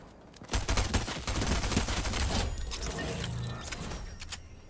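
Rapid gunfire in Fortnite Chapter 3, loud bursts of automatic shots with clattering mechanical clicks, sustained and dense through most of the stretch before easing slightly.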